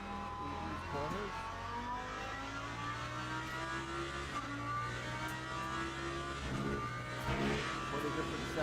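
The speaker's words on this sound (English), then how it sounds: "What a different sound in that Lambo." A Lamborghini GT3 race car in the sim racing game Le Mans Ultimate at Algarve, Portugal, its engine droning and climbing through revs in steady rising sweeps, with a commentator's voice faintly underneath.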